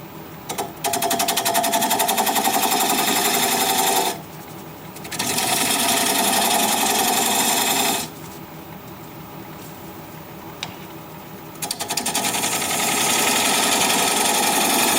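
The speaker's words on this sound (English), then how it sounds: "I'm going to switch to a 3/8 inch bowl gouge to work on this tenon." A lathe spinning a cork oak bowl while a 3/8 inch bowl gouge cuts the tenon, a loud, close, buzzing rattle that stops and restarts several times.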